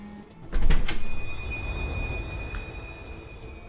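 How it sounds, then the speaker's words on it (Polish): Door opening in the mobile horror game Scary Horror 3, a heavy sliding rumble that starts abruptly, carries a thin metallic ring, and fades slowly. "No bo otworzyły się drzwi."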